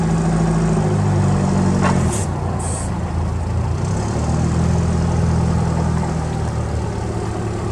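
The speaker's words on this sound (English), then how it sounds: "Smooth running LP gas engine." A Yale GLP020CB LP-gas forklift with pneumatic tires runs smoothly at a steady idle, its low engine rumble constant and close. A few brief higher hisses and clicks cut in near the middle.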